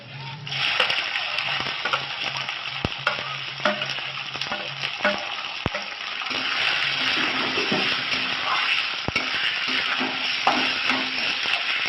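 Gobindobhog rice sizzles steadily in a hot pan for pulao while a utensil scrapes and stirs through it, with sharp clicks of metal against the pan.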